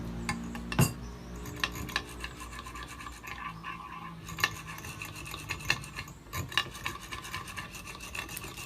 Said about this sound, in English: Can we do the mixing of the cream?